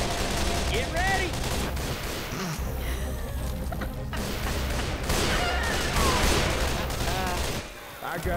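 Assault rifle fire in the zombie shooter Left 4 Dead 2, Hard Rain sugar mill survival mode on hard difficulty, with dense continuous bursts of automatic gunfire mixed with other weapons and game chaos, with players talking over it.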